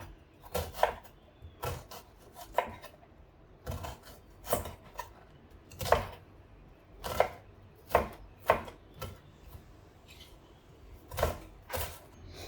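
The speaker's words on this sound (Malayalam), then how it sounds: "സവാള ചെറുതായിട്ട് അരിഞ്ഞെടുക്കാം" Onion finely chopped with a knife on a cutting board for a green peas potato curry, a long series of crisp irregular knocks, sometimes in quick pairs, close and clear with no talking.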